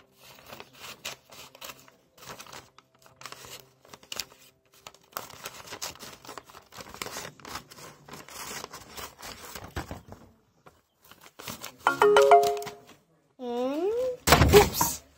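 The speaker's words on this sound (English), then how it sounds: "So I'm just gonna cut it down with different scissors" Scissors cut through paper for a mini M&M's notebook, producing a run of small close snips and rustles with brief pauses, followed later by louder pitched sounds near the end.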